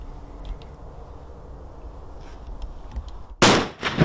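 A single-shot hunting firearm fires once, a sharp loud report near the end after several seconds of quiet background, followed by a brief echoing tail.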